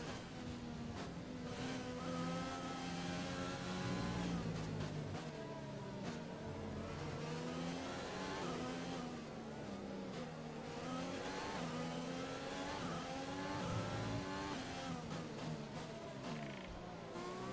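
An F1 2020 race car on race fuel roars through a Brazil Grand Prix lap in a video game, its engine rising and falling steadily through gear changes and corners, loud and continuous throughout.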